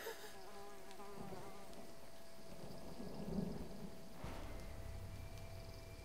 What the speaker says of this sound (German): Immerhin lässt der Regen nach.